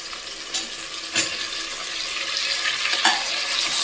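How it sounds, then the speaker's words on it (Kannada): Tomatoes added to fried onions sizzling in a pan for brinjal pulao, a continuous bright frying hiss with a couple of sharper utensil knocks, close and fairly loud, no voices. "ಸ್ವಲ್ಪ ಫ್ರೈ ಆಗಲಿ ಇದು"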